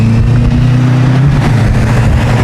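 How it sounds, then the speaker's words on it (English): Road traffic passing near Windy Pointe in Cutler Bay, a steady loud engine rumble with cars rolling by close to the roadside, no voices. "Waiting till a little bit of the traffic goes by"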